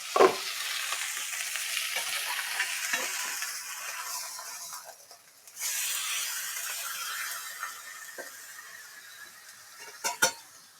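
Meat sizzles and fries steadily in a pan, with a few sharp clatters and scrapes as pieces are flipped, the frying dropping and then swelling again midway.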